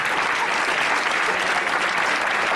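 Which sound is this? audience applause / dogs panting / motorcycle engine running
audience applause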